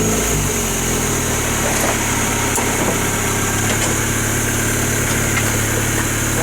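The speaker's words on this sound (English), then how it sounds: "the engine is settling down to a normal idle speed." A Raffo Belva car engine with an overrun problem idles loudly and steadily nearby, settling to normal idle speed, a continuous low rumble with a faint vibrating hum and no voices.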